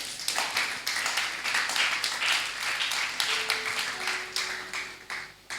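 Church congregation claps together in a steady, dense burst of applause that fills the room, lasting several seconds before tapering off, with a faint sustained tone entering partway through.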